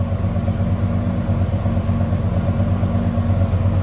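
A 1976 GMC K15 truck engine idles with a low, steady exhaust rumble heard from the rear, close and continuous with no change in pace.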